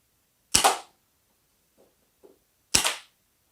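Salt Supply pepper spray gun firing CO2-powered shots at a box, two sharp loud pops a couple of seconds apart with faint handling clicks between them.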